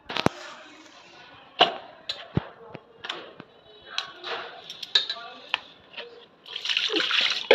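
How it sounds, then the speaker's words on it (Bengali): Water runs and splashes in a kitchen as fish are washed by hand, with clinks of a pot or utensils and intermittent splashes, ending in a louder gush; someone talks over it. "মাছগুলি ধুয়ে নেবো।"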